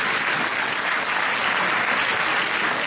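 A crowd at a ceremony presenting the city medal to Paulette Bouisset bursts into applause, a thick, even wash of many hands clapping for about three seconds with no talk over it.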